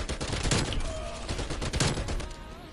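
Rapid gunfire from a weapon in Call of Duty: Black Ops Cold War multiplayer, dense loud bursts of shots repeating across the whole stretch with brief lulls, no talk over it.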